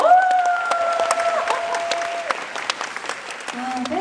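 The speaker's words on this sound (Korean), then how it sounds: "다 같이 박수 한번 주세요." A festival crowd at a Coex concert claps along under a loud amplified voice and music, the applause a busy crackle beneath the talking.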